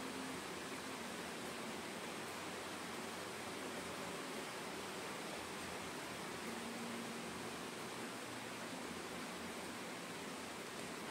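Water runs and splashes steadily as a bowl is rinsed and the rinse water poured into a pan of butter chicken sauce, a soft, even hiss throughout with no talking.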